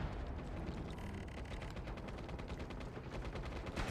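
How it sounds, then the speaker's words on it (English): Gunfire in the shooter MAG as a soldier fires into an enemy's back: a fast, steady run of sharp shots that holds throughout, with no talk. "Check out me shooting you in the back."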